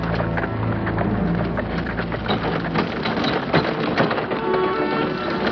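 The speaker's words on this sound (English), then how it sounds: "I hoped that that horse was Ginger" Hooves of a horse in a Black Beauty cartoon clip-clop in a brisk, continuous rhythm, close and fairly loud, with a dense clattering texture throughout.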